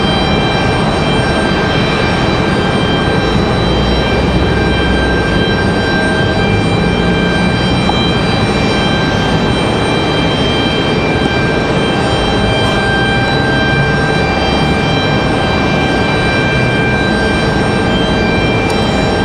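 A JetBlue airliner bound for San Juan pushes back and spools up at Raleigh-Durham airport, producing a constant loud engine drone with steady whining tones layered on top, unbroken for the whole stretch and without voices.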